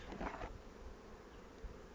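Honey bees buzz at a garden hive, a steady close hum of many insects filling the clip, with a brief louder swell near the start.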